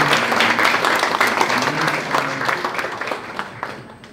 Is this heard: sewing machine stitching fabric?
no